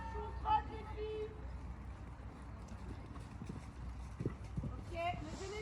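Horses walk and trot in an indoor riding lesson, with soft, rhythmic hoof clip-clops, faint and somewhat distant, under an instructor's voice calling out.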